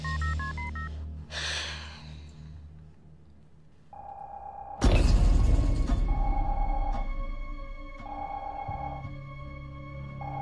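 A telephone number being dialed: a quick run of keypad tones, then a burst of noise and a loud crash, followed by repeated electronic ringing tones over a low background hum.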